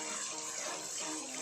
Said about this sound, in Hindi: फिर पानी जितना डालना होगा